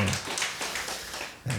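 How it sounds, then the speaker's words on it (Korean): A church congregation claps briefly during a Sunday afternoon service to welcome newcomers, soft scattered hand claps at moderate distance, ending with a low thump near the close. "박수 한번 하시죠"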